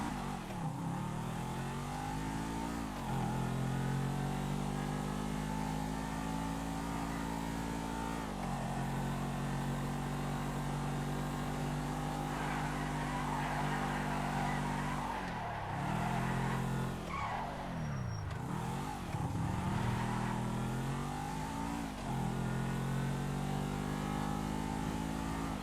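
A sports car on a video game test drive, its engine droning continuously with rising and falling revs as it accelerates and shifts, a few sharp dips where it slows, heard alone and steady throughout.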